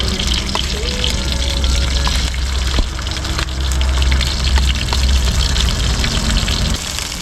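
Masala sizzles in a hot pan, a steady loud frying hiss with crackles and small pops, up close and continuous throughout.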